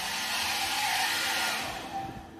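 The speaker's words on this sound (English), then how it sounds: "Oh, and there's even a hairdryer." A hair dryer running on its only setting in a lifeboat accommodation cabin in Southampton gives a steady, fairly loud whoosh of blowing air. It holds constant for about two seconds, then dips slightly near the end, with no voices.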